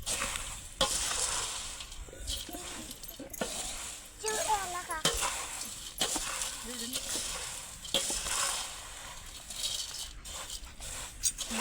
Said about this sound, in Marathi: मम्मी मिक्स मिक्स अजून अजून थोडं हलून अजून करेल